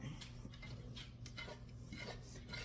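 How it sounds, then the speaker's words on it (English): A small spoon scraping apple crisp mixture from a bowl into a baking dish, a soft, continuous clinking and scraping close by, with no talking. "Get your little spoon. Scrape it out."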